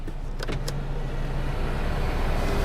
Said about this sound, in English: it does have the automatic one-touch tilting sunroof, power tilting and sliding